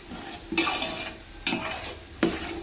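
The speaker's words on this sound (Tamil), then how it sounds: "இப்போ நம்ம சிக்கனை போட போகிறோம்." Chicken for biryani is tipped into a hot pot and stirred, three loud scraping stirs spaced about a second apart over a steady sizzle, close by with no talking.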